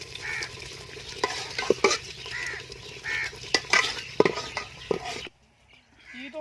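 Saag of mustard greens fries in a pan, giving a steady close sizzle broken by scraping stirs and sharp clacks of the utensil against the pan. The sound then cuts to near silence with faint background noise.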